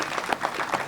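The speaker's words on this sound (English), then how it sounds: "Let's give another round of applause, please, for all those who made this day possible" Graduation ceremony audience applauding steadily, a dense wash of many hands clapping at moderate volume throughout, with no voices over it.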